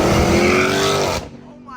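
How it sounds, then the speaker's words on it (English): A Dodge Charger R/T with a manual gearbox screams near its redline at close range, a loud high engine wail held for about a second before it abruptly drops away as the revs fall. "Oh, I just redlined the fuck out of my car. I forgot I was a manual."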